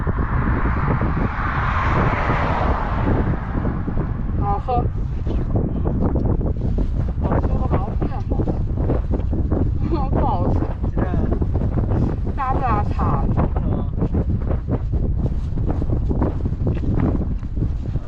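Strong gusts of force 6 wind roar continuously against the microphone while cycling on a road in Gansu, China, a loud buffeting rush that drowns almost everything, with faint voices briefly breaking through.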